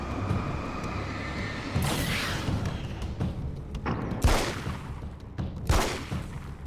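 Gunfire in the video game Alan Wake's American Nightmare, with several sharp shots and booms popping over a steady rumbling game background, two of them standing out loudly near the end.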